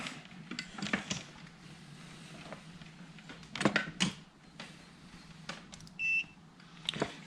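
A multimeter in continuity mode, used while probing connector pins on a 1970s Fender Twin Reverb amplifier circuit board, gives one short steady electronic beep among quiet clicks and handling taps, close up.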